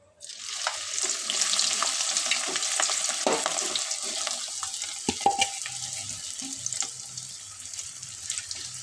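Bitter gourd pakoda frying in hot oil, a continuous close sizzle with scattered pops and clinks of stirring throughout, steady and moderately loud, no voices.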